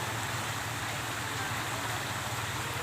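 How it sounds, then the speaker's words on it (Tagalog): A swollen river after heavy overnight rain rushes with a steady, loud, unbroken roar of water, filling the scene evenly from start to finish. "lakas ng ulang kagabi, lakas ng ilog oh"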